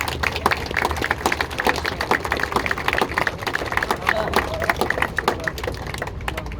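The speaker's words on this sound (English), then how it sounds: "They all deserve a round of your applause to show your appreciation for their hard work" An outdoor crowd at a locomotive naming ceremony for GBRF 69003 at Barrow Hill gives steady, moderately close applause that continues for several seconds, with some talk underneath.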